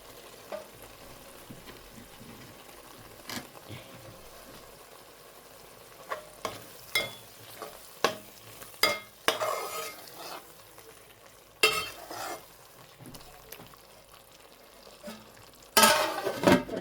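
Masala spices roasting in a pan for a fresh bhumla (Bombay duck) curry, with a steady low sizzle broken by intermittent scraping stirs that grow busier toward the end; no one speaks.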